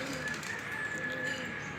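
Racing pigeons at a loft during training, a young bird among them, giving soft continuous cooing over a steady outdoor background, with a faint voice nearby.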